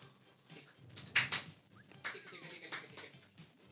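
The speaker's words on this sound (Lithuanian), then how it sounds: "Taip, turim Domo šunį." A dog brought into a talk-show studio as a guest gives short, sharp yips and whimpers around the middle, with a few softer sounds after, over quiet room background.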